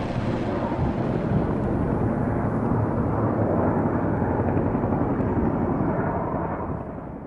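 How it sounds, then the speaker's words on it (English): Firefighting helicopters working a large wildfire, a continuous loud low rotor rumble overhead that fades slightly at the end, with no talking. "There's probably about 5 or 6 helicopters."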